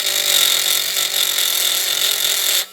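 A power tool taking the burr off cut metal during a Daimler bus separation job, a loud, high continuous whine held steadily close by before stopping abruptly.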